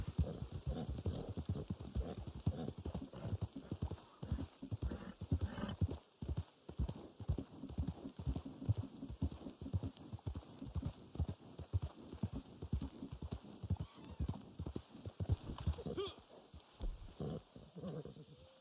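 Rapid rhythmic hoofbeats of a galloping horse in Red Dead Online pound steadily throughout, with an occasional neigh, mid-distance and continuous with no talking.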